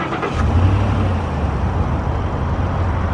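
A high-mileage first-generation Ford Raptor engine turning over and settling into idle, a brief start burst followed by a steady low engine rumble, close and fairly loud, with no talk.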